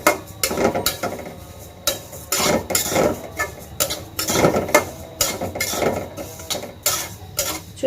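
Sesame seeds roasting in a hot kadai, a spatula scraping and stirring in repeated rhythmic strokes with light rattling of the seeds against the metal, close and fairly loud, no talking.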